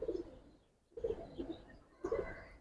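Giribaz pigeons of an old pure breed with green necks, black beaks and red eyes coo in a loft, three soft bursts of low cooing with short pauses between them, close by, with no talk.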